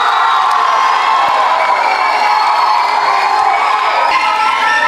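Loud crowd at a film pre-release event roars with sustained cheering, whoops and applause, a dense, continuous wall of noise close by with high shouts poking through.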